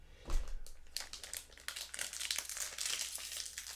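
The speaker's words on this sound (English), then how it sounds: "I apologise for the plastic noise." Plastic packaging crinkles and tears as a set of dice is unboxed, a busy stretch of close, crackling rustles that starts with a louder burst and keeps going.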